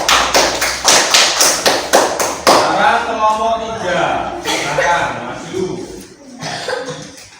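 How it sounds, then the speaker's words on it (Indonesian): Classroom applause for group 4 during a teaching practice session: a burst of quick, rhythmic claps that fades after a few seconds, followed by people talking and light laughter. "Tepuk tangan untuk kelompok 4."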